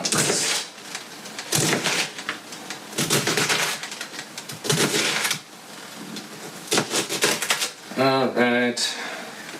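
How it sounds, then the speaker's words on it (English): A knife chops cabbage into rough chunks for a mixed bean and vegetable soup, giving repeated loud, crisp cuts in uneven bursts, close by, with a brief voice near the end. "you can also just kind of keep it rough and bigger"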